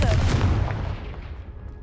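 A Confringo blasting spell explodes in the video game Hogwarts Legacy, a single loud, rumbling boom right at the start that decays steadily over about two seconds.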